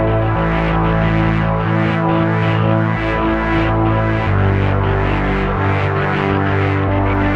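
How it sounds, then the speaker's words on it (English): Dense, droning synthesizer textures with sustained low tones and shifting, throbbing layers, steady and fairly loud with no voices. "some of that space noise you're hearing right now is coming out of Alani Ikea"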